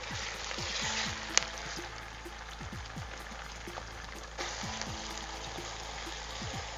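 Onions frying in a pan with ginger-garlic paste for a gravy: a steady, close, broadband sizzle runs throughout with crackles and small pops, and no voices.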